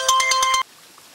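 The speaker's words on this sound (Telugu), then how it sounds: "శక్తి ఫోన్ చేసింది. మాట్లాడు." A telephone ringtone sounds for an incoming call in a home drama scene: five quick, loud electronic pulses in about half a second, then it cuts off to near silence.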